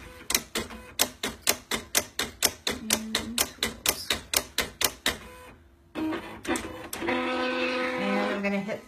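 A Silhouette Cameo 3 cutting machine runs a cut on a loaded mat, giving a fast, steady series of sharp mechanical clicks and whirring carriage moves. A short pause follows, then a continuous buzzing motor hum.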